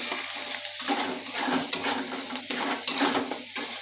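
Egg chow mein fries in a pan with salt, a busy sizzle broken by the scrape and clatter of a utensil stirring against the metal in uneven bursts.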